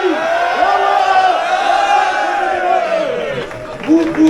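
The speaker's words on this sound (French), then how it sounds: "vous allez vous lever en poussant un cri de hola sincère" A stadium-style crowd at the Biscarrosse half-marathon lets out a sustained collective shout for a Mexican wave, a loud roar swelling and ebbing, with a fresh burst of whoops near the end.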